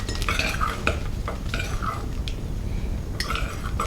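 A utensil stirs fluffy slime mixture in a bowl, making soft, squelchy scraping strokes with occasional clinks against the bowl in an irregular rhythm over a steady low background hum.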